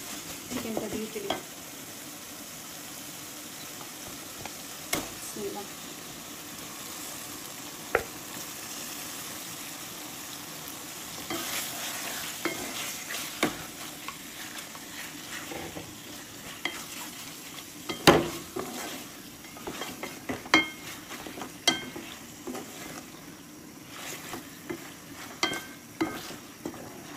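Chicken frying in a pan for a chicken and potato curry, with a steady soft sizzle and intermittent scraping clinks of a spoon stirring, fairly quiet and close, no talk.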